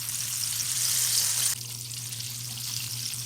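Spicy, double-breaded chicken deep-frying in hot oil in a pan, a steady, loud sizzle with a low hum underneath that drops slightly in intensity partway through as the frying settles. Heard alone without talk.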